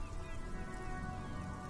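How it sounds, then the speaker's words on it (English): Rain falls on a white-and-blue police motor carriage in the Disco Elysium video game, a steady hiss of dense droplets pattering on the surface, even and soft throughout, no talk. "Droplets of rain fall on the white on blue police livery of the motor carriage"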